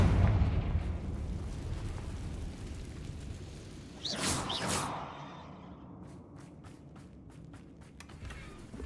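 A Confringo blasting spell goes off in Hogwarts Legacy, near a mine. A low rumbling roar swells into a bright burst, then fades into a string of sharp crackling ticks.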